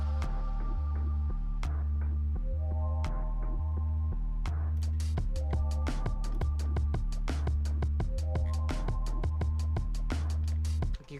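An electronic music mix playing with its bright drums muted: deep pulsing bass notes and layered synth chords, plus sparse sharp percussive hits, loud and steady throughout with no talking, cutting off abruptly at the end.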